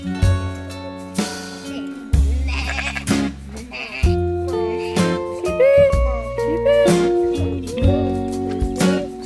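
Sheep bleat loudly and repeatedly in overlapping calls, close by, with several animals answering one another.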